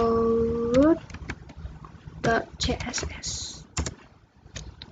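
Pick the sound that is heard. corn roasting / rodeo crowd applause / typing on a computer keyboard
typing on a computer keyboard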